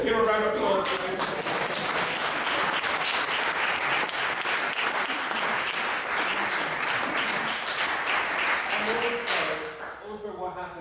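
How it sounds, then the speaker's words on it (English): An audience at a jazz vocal masterclass breaks into dense, sustained applause. It stays loud and full for around nine seconds, then thins and fades near the end. "Give a round of applause for him."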